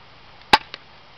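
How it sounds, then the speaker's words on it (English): A spring airsoft pistol fires once with a single sharp snap, followed by a fainter tap as the pellet strikes a tissue box, then a very faint tick; the shot is brief and isolated against a quiet background. "So let's go ahead and fire."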